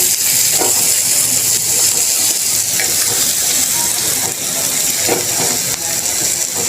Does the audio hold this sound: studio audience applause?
no